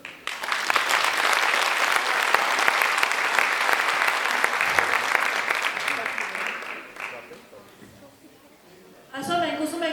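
Sustained, loud applause from an audience at a school graduation last-bell ceremony, dense clapping that fades after several seconds before a short burst resumes.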